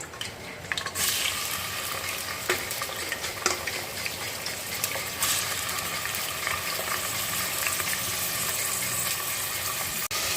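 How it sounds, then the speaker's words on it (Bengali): Chopped onion sizzling loudly and steadily in hot oil for a mutton vindaloo, a dense continuous frying hiss with occasional stirring clinks, no voices. "তেলটা গরম হলে দেখো এখানে যে কুচনো পেঁয়াজটা রাখা আছে আমি কুচনো পেঁয়াজটা দিয়ে দেব"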